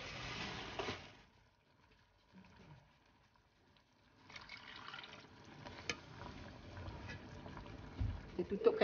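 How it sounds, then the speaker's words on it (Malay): Mackerel curry simmers in a pot, soft bubbling and liquid sounds, quiet and intermittent, with a lull in the middle before the bubbling picks up again. "ikan kita pun dah mendidih"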